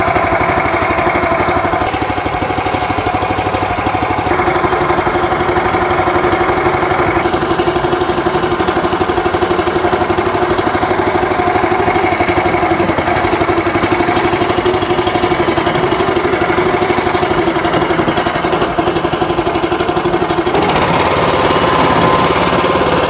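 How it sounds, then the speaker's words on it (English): A petrol push mower runs steadily and loudly throughout while cutting grass on a lawn, its engine drone constant with a slight shift in tone near the end. "Doesn't really need a cut out here, but I'm obviously gonna use this mower."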